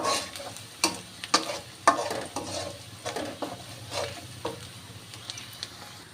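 Green chillies frying lightly in a pan, a low sizzle under repeated stirring taps and scrapes of a spoon against the pan, irregular clicks spaced across the clip.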